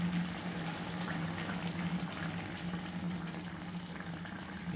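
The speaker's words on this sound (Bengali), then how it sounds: "এবারে আমরা দিয়ে দেবো এই অ্যারারুট জলটা। এটা এতে দিয়ে দিচ্ছি।" Arrowroot-and-water slurry poured into chilli chicken cooking in a pan, a soft steady liquid pour over a low sizzle and hum, continuous and fairly faint throughout.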